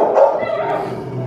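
Small dog yipping and barking inside a very large pet transport crate, a short run of high-pitched barks close by, with people talking over it.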